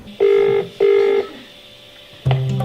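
Telephone in a radio studio, with two long identical electronic tones separated by a short gap, then a quiet pause before a lower buzzing tone begins, loud and close.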